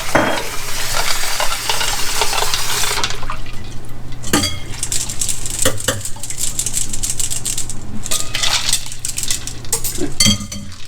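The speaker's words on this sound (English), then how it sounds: "Ice." Ice cubes tumble into a bowl of cold water holding freshly cooked, strained shrimp: a few seconds of rushing water, then a scattered series of sharp, close clinks and knocks.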